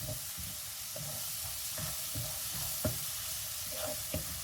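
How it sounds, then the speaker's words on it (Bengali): Onions fry in a large pot on a home stove with a dense, even sizzle, and a spoon scrapes the pot now and then in short stirring strokes. No one speaks. "চুলায় পেঁয়াজ ভাজতেছি"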